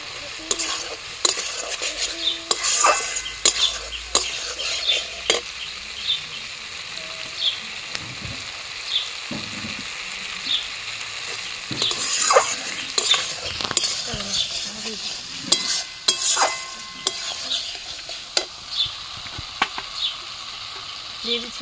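Fried potatoes are stirred into spiced oil in a pan, with repeated loud scrapes and metallic clinks of a spatula against the pan over a continuous sizzle, in bursts with brief pauses.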